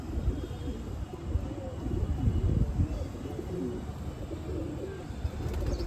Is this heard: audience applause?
no